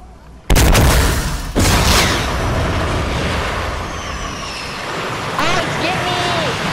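A gun firing in Fortnite lets out a sudden loud boom, then a second heavy blast a second later, followed by a long reverberating roar that fades while voices talk over it.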